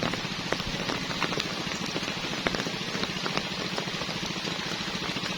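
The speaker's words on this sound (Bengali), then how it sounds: "প্রচুর হারে বৃষ্টি পড়ছে" Heavy rain pours down beside a river, drumming densely on an umbrella beneath a tree: a loud, continuous patter with frequent sharper drops.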